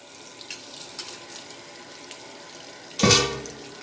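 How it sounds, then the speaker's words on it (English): Dyed fabric rinsed under a running tap, with faint water trickles and drips followed by a louder burst of gushing water near the end. "take it out and rinse it until the water runs clear"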